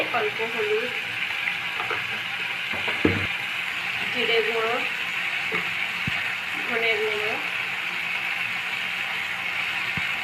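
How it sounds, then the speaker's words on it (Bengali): Ground spice masala with tomato paste frying and being stirred for a Bengali egg curry (dimer kalia), a steady sizzle with intermittent scraping and clinks, and a voice in the background. "গুঁড়ো মশলাগুলো দেওয়ার পর খুব ভালোভাবে মশলাটা কষিয়ে নেব যতক্ষণ না মশলা থেকে তেল ছাড়া আরম্ভ করে"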